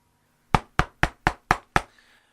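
Six sharp, evenly spaced knocks on a door ring out close and loud, one after another with no talk.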